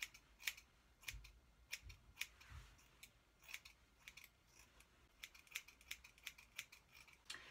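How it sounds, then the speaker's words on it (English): Quiet, crisp snips of scissors cutting hair repeat in irregular bursts, close up, with no talking. "this is when I'm going to go in with my scissors and just upward motion"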